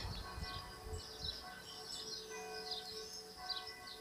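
A church bell tolls a slow death knell at a distance, faint and ringing out over outdoor ambience with birds chirping nearby.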